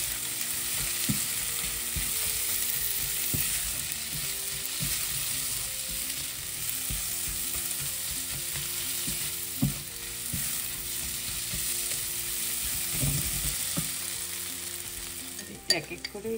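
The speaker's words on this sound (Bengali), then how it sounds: "তারপরে একটু ভালো করে ভেজে নেব" Grated ginger and chopped garlic fry in oil with a steady, close sizzle for a long stretch, punctuated by occasional knocks and scrapes of stirring, with no voices.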